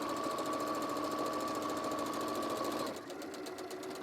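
A sewing machine runs steadily, stitching a light shopping bag with a dense, rapid mechanical whir. It slows and changes pitch near the end as the stitching stops.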